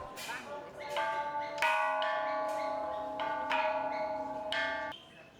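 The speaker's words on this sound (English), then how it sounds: "Bells are an important feature of wats and should be rung in multiples of 3." Several metallic temple bell strikes at a Thai wat ring out one after another, each leaving a long, shimmering resonance that overlaps the next.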